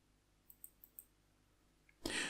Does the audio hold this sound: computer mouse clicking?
yes